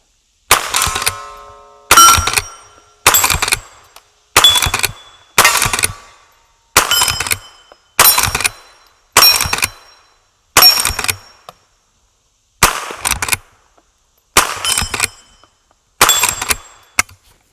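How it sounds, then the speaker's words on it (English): A .22 LR rifle fires downrange, about a dozen sharp, loud cracks spaced roughly a second apart, each clean with a brief ringing tail and silence between. "So let's do a few shots downrange with it."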